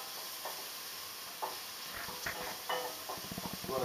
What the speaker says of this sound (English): get it moving around, get it nice and brown so that the onion almost becomes transparent